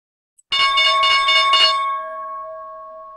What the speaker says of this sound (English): less than 10 seconds to go before the opening bell